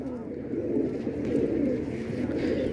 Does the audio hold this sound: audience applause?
no